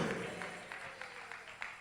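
A church congregation applauds, steady rhythmic clapping heard faint and distant over a dense background wash.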